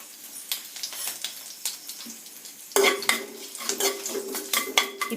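Curry leaves go into hot oil with urad dal, cumin and fenugreek and are stirred, giving a soft sizzle and clinking spoon scrapes that swell into a louder, sustained frying crackle partway through, with no voices.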